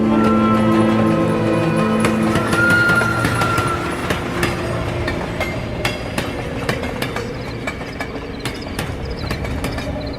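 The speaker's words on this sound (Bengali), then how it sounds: "রেল ইয়ার্ডে শীষ দিয়ে চলে গেছে রাতের ট্রেন" A train rolls through a rail yard at night, its loud rumble and clattering wheels close by, with a sustained whistle tone early on before the rattling carriages fade slightly.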